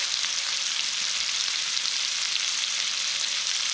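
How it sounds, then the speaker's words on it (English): Shrimp sprinkled with Creole seasoning sear in a hot pan, giving a loud, even hiss of sizzling that holds steady the whole time with no voices. "we've got our shrimp nice and pan seared"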